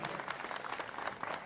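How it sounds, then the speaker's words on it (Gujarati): An audience at a Gujarati devotional bhajan gathering bursts into steady, dense applause for the manjira accompanists. The sustained clapping is fairly close and fills the whole moment without any speech. "બેને એકવાર જોરદાર તાળીઓથી વધાવી લ્યો."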